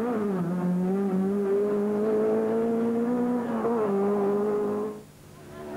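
Opel Manta rally car racing on a stage at the 1988 Donegal International Rally in Ireland, its engine holding a loud, sustained rasping note close by and then easing off as it passes.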